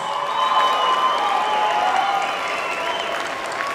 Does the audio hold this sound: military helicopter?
no